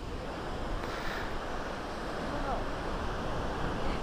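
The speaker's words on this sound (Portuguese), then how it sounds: "Olha o barulho do mar." Ocean surf breaking on a beach, a broad continuous wash of waves mixed with wind buffeting the microphone, steady and fairly loud for the whole stretch.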